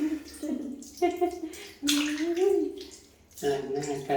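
A child's face is washed with splashing water, short wet splashes and dribbles mixed with voiced sounds, the child and an adult audible throughout.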